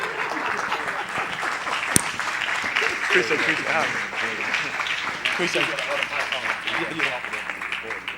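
A crowd claps steadily in a sustained round of applause while a voice speaks over it.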